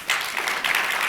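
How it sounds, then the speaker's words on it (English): Audience applause at a conference panel discussion on social media and antisemitism, a steady wash of clapping from the crowd lasting about a second with no voices over it. "Got applause"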